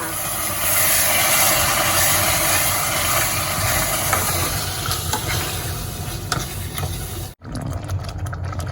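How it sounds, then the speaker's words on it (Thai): Pasta sauce with shredded beef being stirred in a pan, loud continuous sizzle with scraping stirs, thinning toward the end before a brief cut and quieter bubbling. "ก็จะคนคนให้เขาเข้ากันดีค่ะ"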